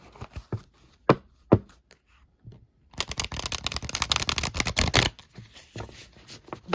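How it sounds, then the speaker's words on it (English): A tarot deck is handled and riffle-shuffled up close, a few sharp taps and card snaps followed by a dense two-second burst of rapid fluttering flicks, then softer settling clicks. "These feel nice and shuffled."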